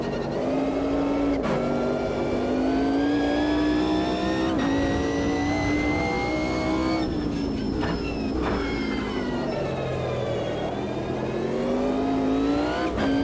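A Mercedes race car in Automobilista 2 howling at high revs, close and steady, with sharp dips at gear shifts and a longer drop under braking around the middle before the engine winds back up.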